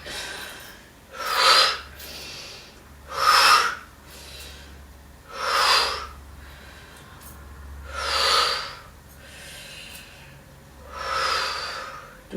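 Slow, deep breathing during a standing yoga session, about six strong breaths in and out at an even pace, each a soft rushing swell with quiet gaps between, no talk.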